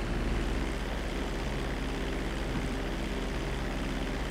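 A Titan cargo plane's propeller engines drone steadily in GTA V Online at an airport, a loud, even, low throbbing hum holding constant without a break.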